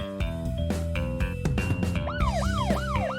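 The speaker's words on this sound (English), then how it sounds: "Fire truck." A fire truck siren wails with rising and falling sweeps, loud and close, after a short stretch of horn-like tones at the start.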